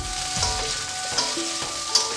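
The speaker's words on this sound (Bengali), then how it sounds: "পেঁয়াজটাকে ভালো করে ভেজে নিচ্ছি" Onion and chili fry in a pan for pabda fish curry, giving a steady close sizzle with faint stirring clicks.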